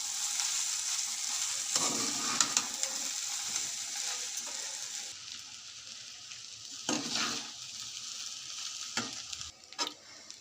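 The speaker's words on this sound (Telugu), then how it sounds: "ఇప్పుడు ఉడికించి చల్లారించుకున్న అన్నం వేసుకుందామండి. ఇప్పుడు మొత్తం బాగా కలుపుకోవాలండి." Cooked, cooled rice is stirred into softened tomatoes in a frying pan, a steady low sizzle carrying throughout while a spatula scrapes and clinks against the pan in a few distinct sweeps, close and with no talking.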